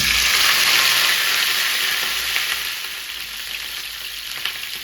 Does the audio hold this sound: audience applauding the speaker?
no